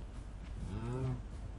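Cows in a Minecraft game moo once in a drawn-out low bellow, faint and set against a steady background hiss.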